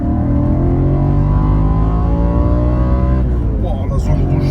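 An Audi RS4 engine revs hard toward the red line, a loud, dense rising howl with climbing harmonics before it briefly dips near the end.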